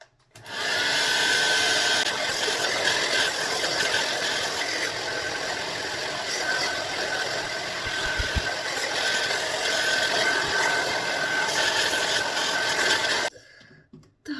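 A hair dryer roars steadily for about thirteen seconds as it dries tinted hair, a constant loud blowing whir with a slight rattle, cutting off abruptly near the end.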